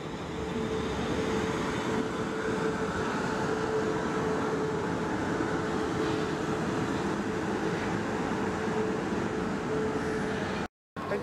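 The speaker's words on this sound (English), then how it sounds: "the final train for this video is here" Train pulling into Winchester station on the South Western Main Line, a loud steady rumble with a constant tonal whine that holds throughout, close by, with no talking over it.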